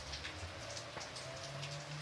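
Steady rain falls and patters on surfaces in a dense, continuous wash, with a faint low hum underneath and no voices.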